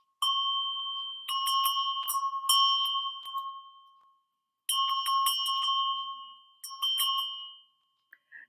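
Small bells ring in bright, clear bursts, shaken several times with short pauses between, close and alone.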